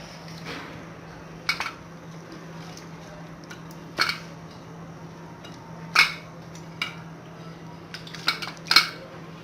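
Spices and chicken being mixed for a marinade in a bowl: a few scattered soft clinks and squishy contacts, close and fairly quiet, with no talking.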